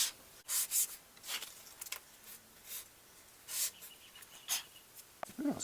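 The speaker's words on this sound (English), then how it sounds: "give it a little shot of sanding" Brief sandpaper strokes rubbing over a laser-cut wood piece to clear burn marks, coming as irregular short scratchy bursts close to the microphone with quiet gaps between them.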